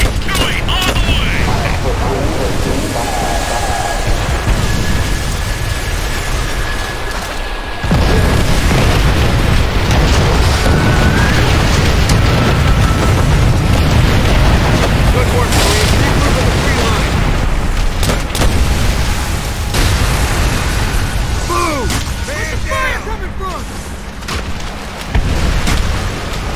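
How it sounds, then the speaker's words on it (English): Rocket strike explosions in a World War 2 shooter game, heavy rolling booms and blasts filling the scene continuously, loud and dense, with shouted voices breaking in at times. "That rocket strike should have softened them up!"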